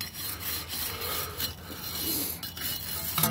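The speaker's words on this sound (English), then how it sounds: "you try to clean as much rust off as possible" A steady rasping scrub of rust being cleaned off brake parts on a 2000 Lincoln Navigator, close and fairly loud, with repeated strokes that run almost without pause for a few seconds.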